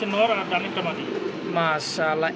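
A Lahori pigeon coos in soft, repeated rolling phrases close by, and someone talks over and between the calls.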